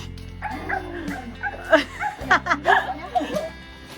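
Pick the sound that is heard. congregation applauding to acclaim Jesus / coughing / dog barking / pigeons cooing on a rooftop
dog barking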